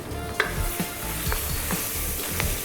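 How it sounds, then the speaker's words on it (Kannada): Red chilies and curry leaves sizzle in hot oil, a loud steady crackling hiss with periodic scraping clicks from stirring, close up and continuous with no talk. "ಮೆಣಸಿನ್ಕಾಯಿನ ಹೀಗೆ ಎಣ್ಣೆ ಜೊತೆ ಚೆನ್ನಾಗಿ ಇದಾಗಬೇಕು. ನೋಡಿ, ಅದರ ಹಸಿ ಇರೋದ್ರಿಂದ ಆ ಸೌಂಡ್ ಬರುತ್ತೆ ನೋಡಿ, ಉಸ್ ಅಂತ"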